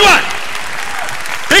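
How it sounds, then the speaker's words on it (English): Brief burst of congregation clapping at a church gathering in Fort Smith, Arkansas, a dense wash of hands lasting about a second, with a voice speaking just before and right after. "Now let's give the Lord a big clap."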